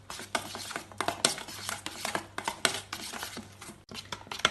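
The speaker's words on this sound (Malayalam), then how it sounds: "അര ടീസ്പൂൺ പാപ്രിക്ക പൗഡറും കൂടെ ചേർത്ത് എല്ലാം കൂടി ഒരു സ്പൂൺ കൊണ്ട് ഇളക്കി മിക്സ് ചെയ്യാം." A spoon stirs a honey and paprika sauce mixture in a bowl, producing quick repeated scraping clicks and taps in an irregular rhythm, close and fairly quiet, with no talk.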